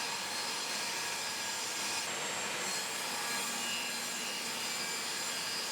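Repeated passes of a saw cutting a dado into wood for a wall-mounted oak-topped charging station, a steady broadband rasping whir held at close range without pause or talk.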